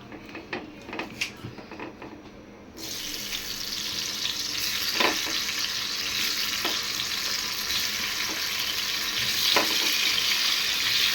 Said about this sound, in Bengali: এখানে আলুর মধ্যে আমি কিছু জর্দা রং দিছি আর লবণ দিছি এখন আলুগুলাকে ভাজবো